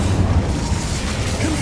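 Incendio fire spell in Hogwarts Legacy, a loud low whooshing burst of flame with a rumbling roar that holds steady, close and heavy.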